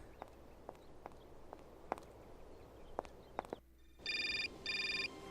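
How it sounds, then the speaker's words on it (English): An in-game telephone in the Syberia adventure game rings twice in bright electronic trills after a stretch of soft, evenly spaced footsteps in a quiet setting. "We got a phone call."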